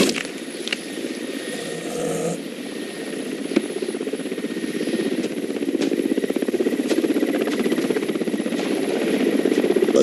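A helicopter flies over Siberian tiger country, its rotor producing a steady, rapid chopping thud under a continuous turbine whine, close and fairly loud throughout with no pauses.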